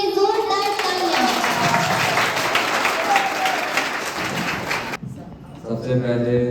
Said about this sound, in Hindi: तो कृपया उनके लिए जोरदार तालियां